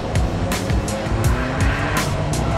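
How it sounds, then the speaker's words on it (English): An Alfa Romeo 4C sports car drives at speed on a test run, its engine giving a steady, loud roar with tire noise and brief bursts of higher-pitched hiss. "One thing that really gives the vehicle its racing spirit is the roar of the engine."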